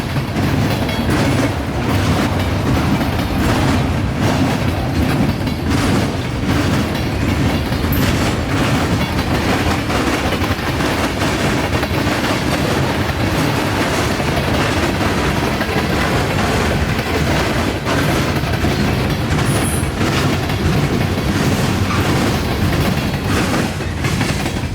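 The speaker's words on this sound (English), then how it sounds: "as 583 picks up speed out of town, it goes to show that even these shallower diamonds can make their fair share of noise" CSX freight train 583 accelerating out of town across shallow railroad diamonds in North Georgia, with a continuous loud rumble and rhythmic clickety-clack of wheels over the crossing, sustained throughout.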